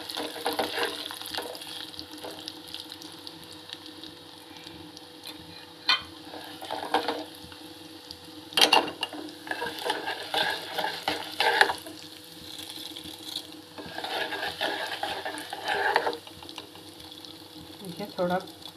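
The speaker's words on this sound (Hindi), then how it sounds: "पहले हम माश की दाल को थोड़ा तल लेंगे।" Urad dal frying in oil for rava upma, stirred with a spoon: a continuous sizzle with scraping and clinking strokes against the pan, close and moderately loud, with a voice speaking faintly at times.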